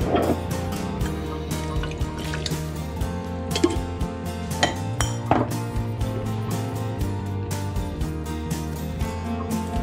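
Home-canned ingredients for beef stew being dumped into a stew pot: glass jars clinking, liquid splashing and dripping, and metal knocks, with several sharp clanks over steady pouring sounds.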